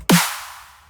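A single sharp layered snare and clap hit with a bright noisy tail that decays over about a second, heard alone.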